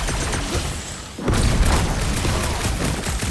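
Gunfire blasting at cold-rolled iridium clamps in the Marvel's Guardians of the Galaxy video game, a sudden loud boom followed by dense, sustained shooting and rumbling.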